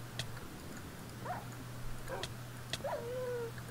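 A dog whimpers in a video game, giving a few short high whines and yelps spread over a few seconds, faint against a steady low hum.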